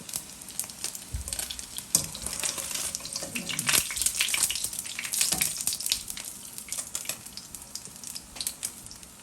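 Pieces of smoked fish frying in hot oil, giving a dense, continuous crackling sizzle with scattered sharper pops and occasional scraping, moderately close and steady throughout.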